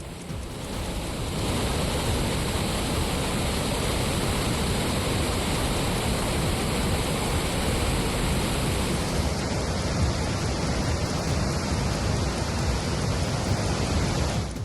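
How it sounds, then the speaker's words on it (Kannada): The swollen Tunga river rushes in flood as water pours from all twenty-two gates of the Tunga dam. A loud, continuous roar of rushing water fills the whole stretch, with no voices. "ತುಂಗಾ ನದಿ ಮೈತುಂಬಿ ಹರಿತಾ ಇದೆ"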